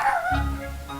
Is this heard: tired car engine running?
no